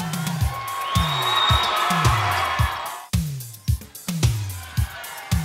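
A crowd at a close high school basketball game cheers and roars loudly for the first few seconds, then fades, with a steady series of low, regular thuds running underneath throughout.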